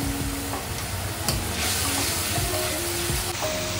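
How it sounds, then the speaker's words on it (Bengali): Spice paste with prawns and mustard frying in a pan, a dense continuous sizzle with repeated scraping stirs throughout, close and fairly loud. "চিংড়ি মাছ দিয়ে আমি এখন ডাটার মশলাগুলো একটু কষায় নিব"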